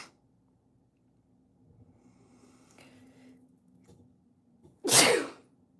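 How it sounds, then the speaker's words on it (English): A single loud, sharp sneeze bursts out near the end after several seconds of quiet breathing and faint rustling, close to the listener. "I have to sneeze again."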